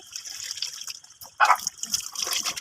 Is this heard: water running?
yes